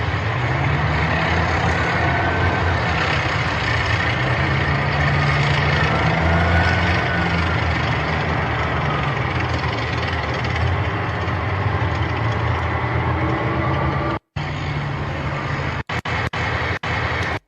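A tractor trailer truck on a road in Idaho: a loud, close, continuous diesel engine roar and tire rumble holding steady for about fourteen seconds, then cutting off abruptly into brief choppy fragments.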